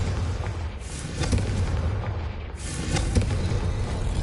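Confringo blasting spell from Hogwarts Legacy on PS5: loud, rumbling game explosions with a low boom that swells twice in quick succession over a constant roar, with no voices.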